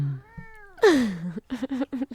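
A cat meows several times, first a drawn-out rising cry, then a loud falling wail followed by a run of short, quick mews close to the microphone, with no talking.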